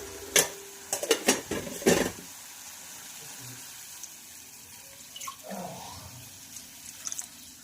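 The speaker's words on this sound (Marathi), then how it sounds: "यावर आपण अर्धा ग्लास पाणी घातलेलं आहे" Half a glass of water is poured into a pan of chicken being cooked with green chilli paste, giving a few quick splashes and sizzles, then quieter bubbling and stirring.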